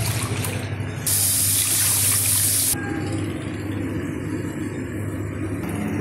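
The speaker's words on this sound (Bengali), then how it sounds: "এবার জল দিয়ে দেবো" Water is poured into a mustard fish curry in a pan, making a steady, rushing splash that swells for a moment and then settles.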